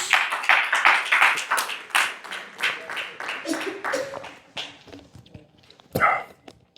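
A church congregation claps for the Lord during a Spanish-language service, bursts of fairly close clapping mixed with voices, fading into a few scattered claps and one last loud clap near the end.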